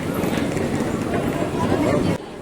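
Horses' hooves clip-clop in a busy run along a pilgrimage path, mixed with crowd babble and nearby chatter, until the sound drops off abruptly near the end.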